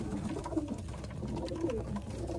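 A Madras pigeon coos in soft, low, throaty murmurs, repeating at close range over a steady background hiss, with no talking.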